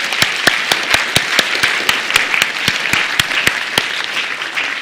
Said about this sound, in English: let's give our electrons a round of applause